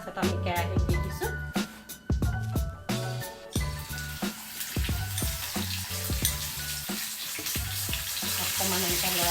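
Small mola fish sizzling in hot oil in a wok for an Assamese recipe, a bright crackling fry broken by sharp clatters and stirring knocks, close and moderately loud with no talk.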